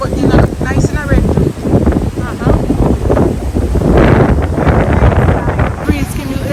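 Outdoor wind in Aruba buffeting the microphone in loud, gusty rumbles, with people talking throughout.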